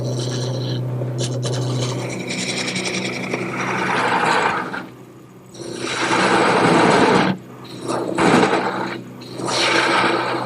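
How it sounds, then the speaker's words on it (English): A wood lathe spins a bed post as a gouge cuts into it, giving a rough rasping, scraping noise in several bursts with short pauses between them, close and fairly loud. "I'm going to switch to a smaller gouge, and I'll just bead over the rib in the center"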